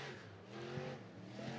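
An IMCA sportmod race car runs on a dirt track during qualifying, its engine a fairly faint, distant rising and falling drone that swells a couple of times over the steady background.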